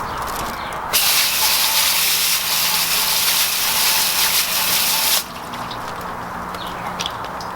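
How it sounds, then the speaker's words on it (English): A hose sprays water onto a car wheel, a loud close hissing gush that starts abruptly, runs steadily for about four seconds, then cuts off to quieter dripping ambience. "So you start by hosing down the wheel."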